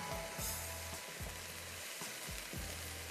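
Dal maash and minced keema fry in a pan with a steady, close hiss of sizzling oil, broken by soft, regular thumps from stirring or scraping every half second or so.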